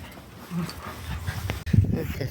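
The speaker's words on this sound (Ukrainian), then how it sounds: "собаки борюкаються наші." Two dogs play-fighting outdoors, with soft whimpers, yips and panting in short bursts that grow louder toward the end, close by against faint background noise.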